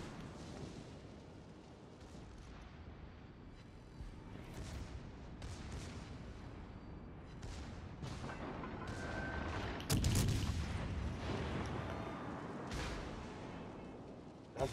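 The Scharnhorst warship fires its guns in a naval battle game: scattered distant booms and gunfire crack over a low rumbling background. The firing builds to one heavy, close blast around the middle of the clip.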